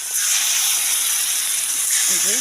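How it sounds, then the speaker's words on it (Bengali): Jaba fish coated in salt, turmeric and chili fries in hot oil, giving off a steady, loud hiss and sizzle that runs throughout, with a brief voice near the end. "মাছটাকে এই যে কেটে লবণ হলুদ মরিচ মেখে ভেজে নিলাম, আর বাকিগুলো এখন ভেজে নিচ্ছি"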